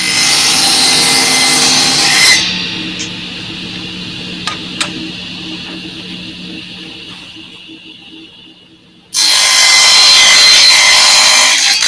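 A mini table saw cuts a miter in wood, a loud whining blade roar that drops to a quieter rub and faint clicks for several seconds before the saw surges back up loudly.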